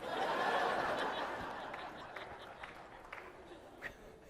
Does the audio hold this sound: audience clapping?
yes